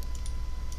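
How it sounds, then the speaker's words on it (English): Quick keystrokes tap on a computer keyboard, a few light clicks in under a second over a low steady hum. "I'm typing"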